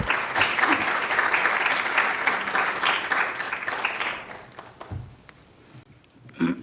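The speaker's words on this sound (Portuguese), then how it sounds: "les pido por favor que demos un fuerte aplauso como bienvenida al profesor Barbosa" An audience gives a lecture hall welcome to a visiting professor at a conference on Schopenhauer with a dense, sustained round of applause that holds steady, then thins out and fades near the end, leaving a few scattered claps.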